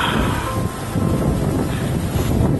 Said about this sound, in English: Just see the waterfall now. Look at that pouring down.